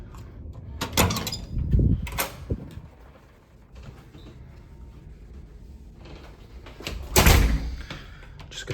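A hotel room door at the TWA Hotel opens and shuts with heavy clunks, followed by metallic lock mechanisms clicking and a final loud thunk as the second lock is set.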